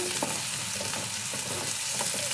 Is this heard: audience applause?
no